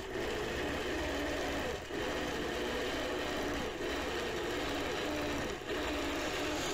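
A sewing machine stitches steadily while machine quilting a teardrop-ruler design, feathering toward a corner; a continuous mid-level whir and hum with brief slight dips, no talking.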